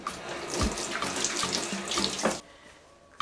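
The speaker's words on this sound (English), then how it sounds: "Wash your hands." Tap water runs steadily into a sink with splashing as hands are rinsed beneath it, loud and close for about two seconds, then the flow cuts off to near silence before a brief splash returns.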